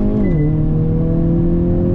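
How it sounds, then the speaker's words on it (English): A 2022 Hyundai Kona N pulls under throttle in second gear. Its loud, close engine drone dips briefly in pitch at the start, then holds steady. "Second gear, on throttle, here we go."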